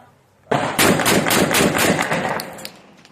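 A Saiga-12 semi-automatic 12-gauge shotgun fires a rapid string of about eight loud, sharp blasts in quick succession, each booming report running into the next before the echoes fade out.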